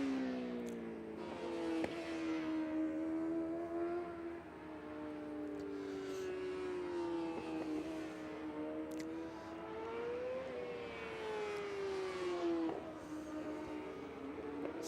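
Superbike racing motorcycles circling a track during morning practice, their high-revving engines rising and falling in pitch as they pass, heard continuously at moderate distance.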